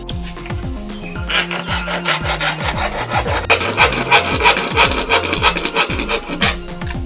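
A hand saw cuts through pipe while a fishing rod holder is being made, with rapid repeated back-and-forth rasping strokes, close and loud, that grow busier in the second half.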